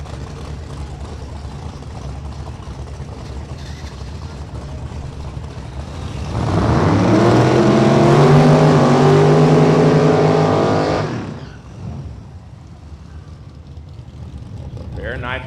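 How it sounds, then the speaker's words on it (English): Nitrous drag race cars, a third-gen Camaro and a C7 Corvette, launch and roar past at a 275 small-tire event, loud rising engine noise for several seconds then fading, under an announcer's voice. "Nitrous cars coming at you"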